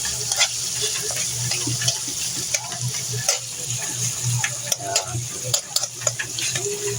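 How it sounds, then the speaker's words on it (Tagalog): Pork and shrimp paste (alamang) sautéing in a pan for binagoongan, a steady close sizzle with scattered stirring clinks and scrapes running throughout, no talk. "gigisa muna natin yan"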